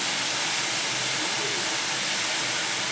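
Bapli wild greens sauté in a pan with a constant, even hiss of steam and frying, close and unbroken for the whole stretch.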